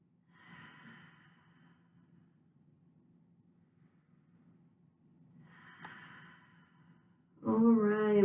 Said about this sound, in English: And 5 strong breaths in our child's pose.